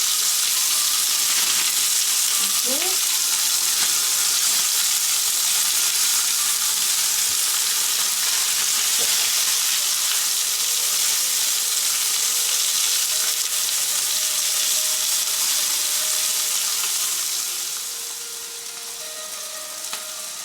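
Chicken breast frying in a pan on lowered heat, a steady sizzle filling the whole stretch, a dense crackling hiss that softens slightly near the end, with a few faint clinks early on.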